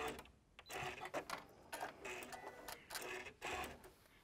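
A sewing machine stitches a rolled hem using a hemming foot, giving short uneven bursts of rapid clicking stitches worked back and forth, close and fairly quiet.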